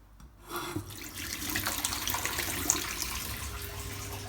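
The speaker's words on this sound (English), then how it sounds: "Hot water's on." Hot water running steadily from a tap supplied by a Glow Worm boiler, a continuous near, moderately loud broadband rush that begins after a brief quiet start and holds evenly.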